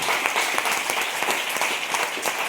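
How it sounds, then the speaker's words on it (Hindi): A roomful of attendees at a sales training session applauds loudly, a steady dense clatter of many clapping hands at moderate distance, continuous throughout with no talk over it. "जोरदार ताली होनी चाहिए"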